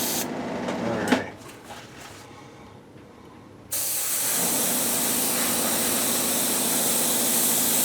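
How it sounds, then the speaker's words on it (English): Airbrush laying down paint on a model build: after a brief clatter and a quiet pause, a sudden steady hiss of spraying starts and continues evenly, close and loud. "just do a light coat at first, guys"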